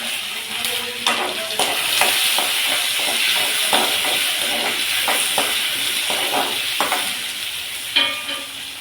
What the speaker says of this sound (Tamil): பூண்டு இஞ்சி சேர்த்துக்குவேன்